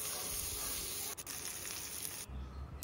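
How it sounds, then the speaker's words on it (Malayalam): Masala-marinated fish frying in oil, a steady broadband sizzle with crackling that drops to a quieter low rumble near the end. "മീൻ മസാല പുരട്ടി വെച്ചതും വറുത്തെടുത്തു"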